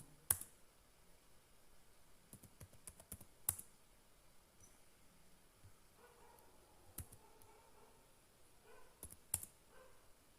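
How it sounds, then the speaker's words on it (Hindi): Typing on a computer keyboard during an FTP service hacking session, faint sparse key clicks in small clusters with quiet gaps between, close but soft, no speech. "मैं यहाँ पर जस्ट एग्जिट लिखता हूँ।"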